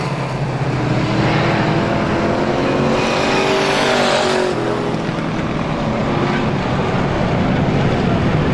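Strictly stock cars racing in a heat at Star Speedway, a loud, continuous roar of several engines at once, swelling as cars pass close by midway, with no talk.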